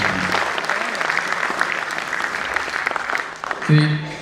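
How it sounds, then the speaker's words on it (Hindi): An audience applauds loudly in a sustained burst of clapping, with a voice starting to speak as it fades. "आप मेरे तरफ से एक बार और सबों के लिए जोरदार ताली।"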